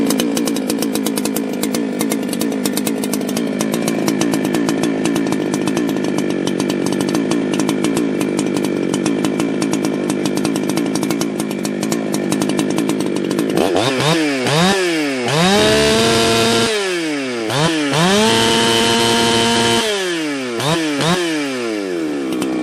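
A ported chainsaw idles with a steady buzzing drone, then revs hard into loud high-pitched screaming bursts that rise and fall several times, close and alone.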